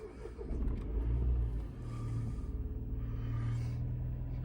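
A Mini Cooper S engine cranks and catches, then settles into a steady, slightly lumpy idle with a low, continuous rumble close by.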